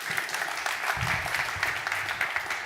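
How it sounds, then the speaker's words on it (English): An audience applauds at the 10th European AI Forum conference, giving a steady round of clapping that fills the room for a few seconds with no one speaking. "Please, a little applause for Mr. Müller."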